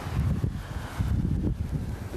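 A light wind gusting on a Cape Verde beach buffets the microphone with low rumbling rushes that rise and fall, steady and close, with no voices.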